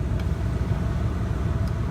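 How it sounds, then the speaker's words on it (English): Pickup truck with a 5-inch exhaust and no muffler on Tunnel Road in Vernon, Connecticut, gives a steady, loud low rumble that echoes inside the tunnel with no break. "We will also be featuring the 5-inch exhaust with no muffler on the truck."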